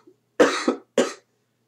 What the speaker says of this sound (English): Smart thing to cough into your arm